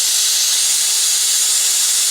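Air rushes out of the coolant system of a 2008 BMW 335xi AWD sedan during bleeding, a loud, continuous, bright hiss that holds steady from start to finish.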